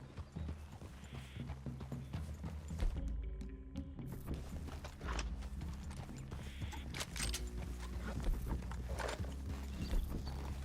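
Horse hooves clip-clop steadily through a woodland clearing in Red Dead Redemption 2, a rhythmic run of close hoofbeats over game music with faint creaks and thuds.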